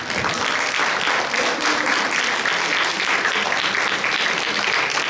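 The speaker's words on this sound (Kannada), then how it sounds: "ಚಪ್ಪಾಳೆ ಜೋರಾಗಿ ಬರಬೇಕು" A crowd at a Krishna welcome function applauds loudly after being urged to clap. The applause is steady and dense for several seconds, with no talk.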